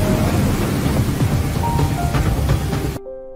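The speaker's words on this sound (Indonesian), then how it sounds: "malam itu badai menyapu semenanjung Korea." A night thunderstorm with heavy rain over the Korean peninsula: a dense, constant roar of downpour with low rumbling thunder beneath, loud and close, cutting off abruptly near the end.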